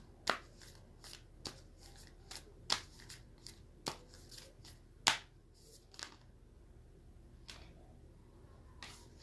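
Tarot cards being handled and shuffled, giving a series of sharp, crisp snaps and riffles at irregular intervals, fairly close and clear against a quiet room with no talking.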